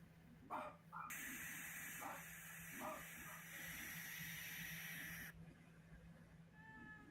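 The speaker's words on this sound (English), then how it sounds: "It's a baby barn owl." A baby barn owl makes faint, breathy hissing sounds in a quiet space, with a steady background hum and a few soft noises from nearby people.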